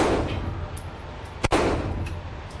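A single sharp, loud gunshot cracks out at a shooting range over a steady background roar, with faint metallic pings scattered around it.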